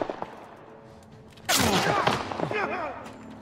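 A gunshot headshot in The Last of Us fires after a quiet stretch, then sharp bursts of gunfire and crackling impacts follow loudly near.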